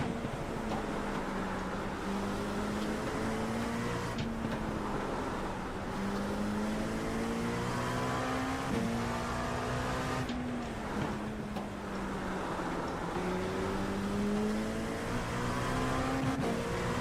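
GTP prototype race cars in iRacing's IMSA multi-class event at Spa-Francorchamps, engine notes rising and falling steadily through gear changes, loud and continuous with no talk.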